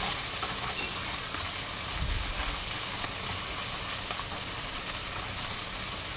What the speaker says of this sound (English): now that the oil is all heated up, I'm going to go ahead and add my cabbage